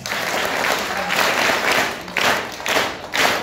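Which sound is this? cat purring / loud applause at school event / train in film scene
loud applause at school event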